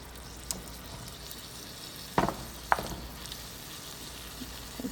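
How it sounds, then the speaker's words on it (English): Beef and broccoli stir fry sizzles in a pan with a continuous close hiss, broken by a few sharper clatters and scrapes as the food is stirred. "It's starting to sizzle again."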